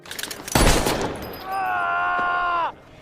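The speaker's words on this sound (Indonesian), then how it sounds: "membuat kakinya harus ditembak" Gunfire from an action film: a loud burst of shots lands near the start, followed by a sustained tonal whine, with faint voices earlier in the scene.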